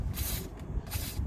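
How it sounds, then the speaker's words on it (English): WD-40 hisses from an aerosol can onto a bolt of the front lower control arm on a Mazdaspeed6, in two close, steady spray bursts with a slight pause between, no talking. "Now let us spray a little bit of WD here."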